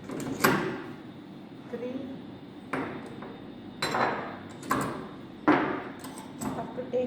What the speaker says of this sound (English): I am just putting the weight now.